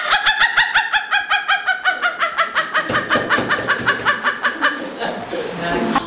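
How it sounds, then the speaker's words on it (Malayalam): A chicken clucks in a rapid, regular series of close, loud calls that slow and roughen toward the end, with a voice briefly heard underneath. "അതേ കോഴിയോട് ഇറങ്ങിപ്പോ കോഴി എന്ന് പറഞ്ഞാൽ അതിന്റെ റിയാക്ഷൻ എങ്ങനെയെന്ന് ശ്രദ്ധിക്കാം."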